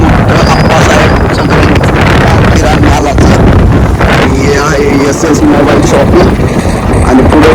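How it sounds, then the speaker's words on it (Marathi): Strong wind roars and buffets the microphone outdoors in a village during a fair, a loud continuous rumble with gusty surges throughout, and a voice speaks underneath. "वारं खूप जोराचं आहे"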